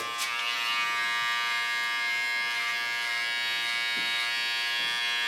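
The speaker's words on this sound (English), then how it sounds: "Come to my clipper. This I only use to free the contour of the hair I don't need." An electric hair clipper trims the neckline contour of a short pixie haircut, buzzing steadily and close for about five seconds with no voices over it.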